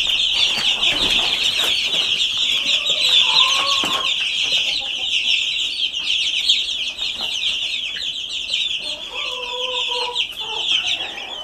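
Chickens cluck softly and intermittently over a steady high chirping of chicks, a busy, continuous coop ambience with no talking.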